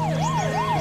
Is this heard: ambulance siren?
yes